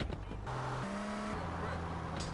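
The Banshee sports car in GTA San Andreas on PS2 revs with a steady engine drone that climbs and shifts pitch in stepped gears, faint and close.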